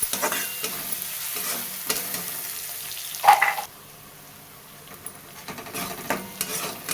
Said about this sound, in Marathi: ते बघा असं परतून झाले कांदा मिरची लसूण सगळं परतले